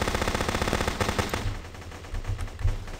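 Mounted machine gun firing in the GunCraft video game, a fast, continuous rattling burst for the first half that gives way to quieter scattered shots and thumps, steady and fairly loud throughout.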